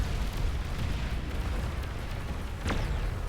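Mortar bots in the strategy game Beyond All Reason set off a dense, continuous rumble of explosions and booms, with one sharper whistling blast near the end.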